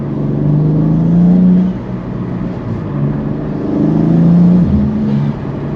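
A BMW G87 M2 engine with an Eventuri carbon fibre air intake revs up and eases off twice, a deep rising and falling drone with a strong intake roar, loud and close, with no talking.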